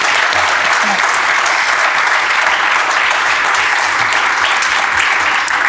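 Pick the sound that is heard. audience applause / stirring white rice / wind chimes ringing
audience applause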